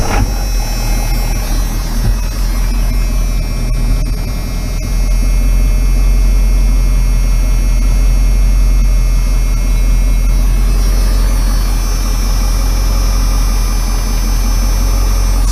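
A Ford OBS Powerstroke diesel engine idles steadily throughout, a loud, continuous low rumble with a constant hum and faint higher whine, no talk over it.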